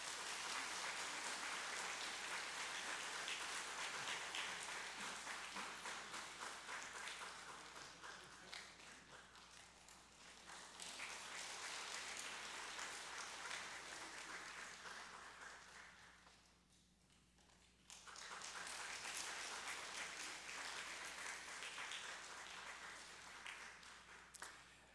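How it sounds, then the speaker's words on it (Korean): A church congregation applauds in sustained clapping, faint and distant, dipping briefly and then swelling again before trailing off. "힘차게 박수해 주시면 감사합니다"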